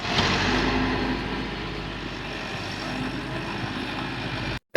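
A tractor engine labors steadily while pulling a loaded trolley out of sand, a loud continuous drone with no voices that cuts off abruptly near the end.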